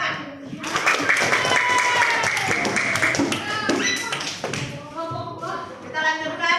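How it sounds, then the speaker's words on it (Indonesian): Students in an Indonesian classroom clap to thank a presenting group during a practice lesson. A loud, ragged burst of hand claps and taps is mixed with children's voices, then fades into scattered taps and talk. "Tepuk tangan."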